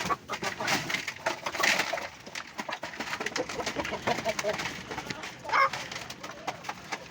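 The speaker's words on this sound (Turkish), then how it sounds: "şöyle tavuklarımızı bırakalım" Hens let out of their coop on a bitterly cold day give scattered clucks and short calls, fairly soft and spread across the moment amid light clicks and shuffling.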